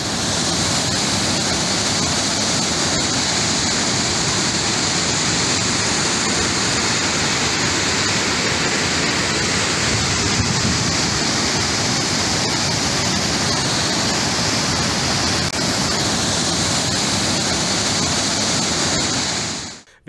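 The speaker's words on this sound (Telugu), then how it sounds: "మలక్పేటలో కూడా బ్రిడ్జిని తాకుతూ నీళ్లు కిందకు ప్రవహిస్తున్నాయి." Musi river floodwater rushing through after the Osman Sagar dam gates opened, flowing high against a bridge at Malakpet: a loud, steady roar of churning water that fills the whole stretch without pause, with no voices.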